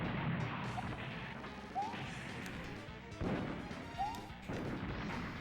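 Explosions in a Super Mario World hack game sound as repeated crashing bursts over a busy, continuous game soundtrack, each blast a short sharp hit.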